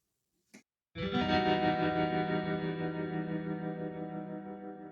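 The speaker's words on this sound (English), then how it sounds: "with a bit of distortion and tremolo, you get that classic spy guitar sound" An Afterglow instrument plays a twangy spy-style guitar chord with distortion and tremolo, a short click followed by one loud sustained ringing strike that slowly decays with a wavering shimmer.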